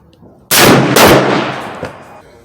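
Henry 45-70 lever-action rifle fired once at a target, a single sharp, loud blast followed by a short echoing decay.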